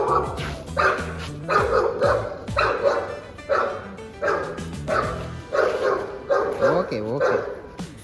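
Several dogs bark at a pet's birthday celebration, loud and close, in repeated rhythmic bursts of barks and high yips with a whimpering edge. The bursts come about every half second to a second.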